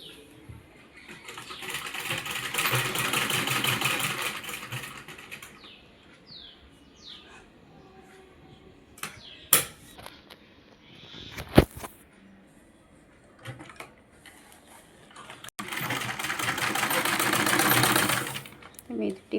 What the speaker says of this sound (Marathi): इथून अशी शिलाई मारून घेणार.